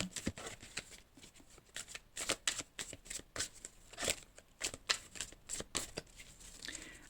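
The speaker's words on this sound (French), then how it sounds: "les signes de terre pour ce 22 novembre, une petite carte chacun" A deck of cards being shuffled for a card reading, a steady run of crisp riffling and slapping bursts, close and fairly quiet, with no talking.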